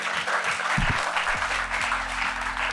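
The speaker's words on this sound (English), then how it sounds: "And Justin, huge round of applause." Audience applause after an evening startup talk with a tech founder, a short burst of clapping from the room, steady and moderately loud over a low musical hum.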